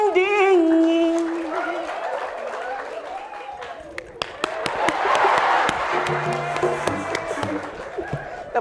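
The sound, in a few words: audience applause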